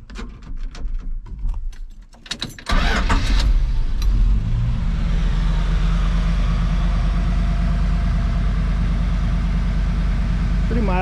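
A 1977 Dodge W100 Power Wagon engine cranks briefly and catches at close range, then settles into a loud, steady idle that runs alone to the end.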